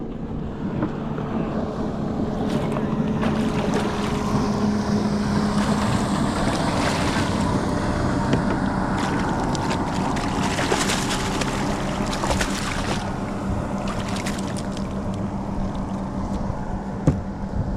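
A motorboat motors across choppy water while flounder fishing, with steady wind rumble and wave noise throughout, the engine drone persistent and fairly close.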